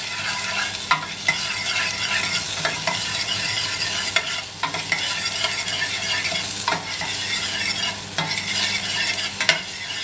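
Onions fry in a pan beside sausages, giving a continuous loud sizzle with occasional spoon scrapes and taps as they are moved around.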